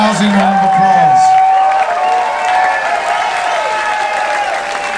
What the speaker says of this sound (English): I want you to give him a rousing round of applause.